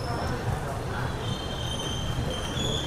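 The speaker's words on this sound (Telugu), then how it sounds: "సో మన వెనకాల చూసుకుంటే మనకు వచ్చేసి గంగా కావేరీ ఎక్స్ప్రెస్ అయితే వస్తుంది" The Ganga Kaveri Express rolls into a platform at Vijayawada station, a close, steady rumble of wheels and carriages with faint high squeal, continuous throughout with crowd murmur beneath.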